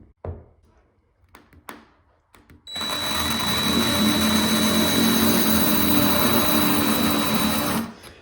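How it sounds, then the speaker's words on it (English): A power drill starts with a few taps, then whines loudly and steadily for about five seconds as it bores a hole through ceramic wall tile, then stops. "then I can go ahead and drill the next one"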